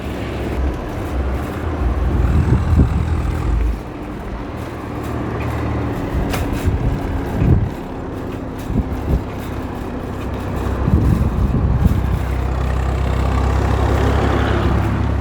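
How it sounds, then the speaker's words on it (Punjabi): A thresher tractor pulling a loaded trolley rumbles past nearby, its low drone swelling and fading with some rattling, steady mechanical noise throughout and no speech. "ਇਹ ਥੇਲਰ ਦਾ ਟਰੈਕਟਰ ਲੰਘਦਾ ਹੋਇਆ"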